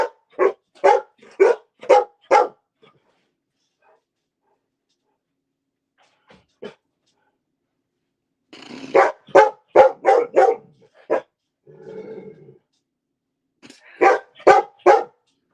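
A dog barks in quick bursts of four or five sharp barks, separated by pauses, with a brief low whine in between; close and loud.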